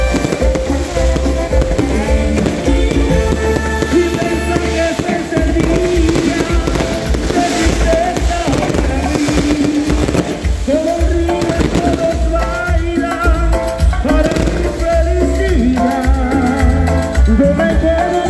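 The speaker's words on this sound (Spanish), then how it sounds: "Muy bonito, muchas detonaciones, bombardas y distintos fuegos artificiales" Fireworks display at an outdoor orchestra event in Piura, with dense rapid detonations and crackling bursts layered over loud music, sustained and close throughout.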